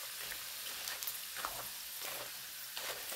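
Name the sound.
prawn crackers frying in hot oil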